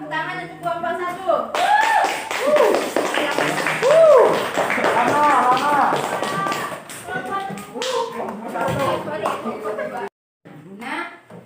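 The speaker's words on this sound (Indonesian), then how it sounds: "tepuk tangan untuk kelompok 1" Students in an Indonesian classroom clap in a loose, uneven patter for a group that has just presented, while voices keep talking over and around the applause.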